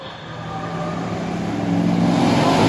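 Lamborghini V8 sharing its platform with the Porsche Cayenne and Bentley Bentayga, revving at a festival of speed, a steady loud engine roar that climbs gradually in pitch and volume over a few seconds, with no voices over it.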